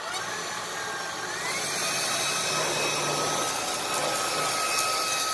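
A Puppyoo A9 cordless vacuum cleaner switched up to its high setting on hardwood flooring whines loudly and continuously, with a rising motor pitch settling into a steady, close, dense roar.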